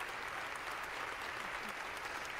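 A standing ovation in the House of Representatives, a dense, steady wash of many hands clapping heard at a distance and fairly faint, continuing without a break.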